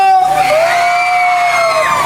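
A loud crowd of women yells in unison at a festival, a sustained high-pitched shout from many voices that holds for about two seconds.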